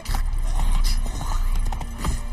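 Roach, a horse in The Witcher 3, gallops in a quick, rhythmic drumming of hooves, close and loud, with no talking over it.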